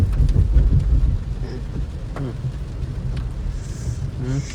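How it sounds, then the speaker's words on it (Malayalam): Rain falls in a steady hiss with low rumbling beneath, moderately loud, while voices speak over it at times. "നല്ല മഴയാണ് ഇവിടെ"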